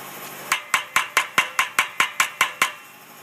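A standard hammer strikes a fresh weld from a 35 kVA flash welder about eleven times in an even, brisk rhythm, each hit a sharp, bright metallic ring that decays quickly, with no talk.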